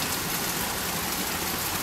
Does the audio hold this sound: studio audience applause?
no